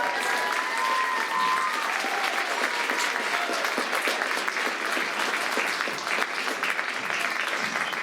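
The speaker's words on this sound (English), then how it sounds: "Can I have a big round of applause for Lola" Concert audience giving a big round of applause for a young lip-whistle performer, thick continuous clapping from a large crowd that holds steady for the full stretch, with a faint sustained tone lingering at the start.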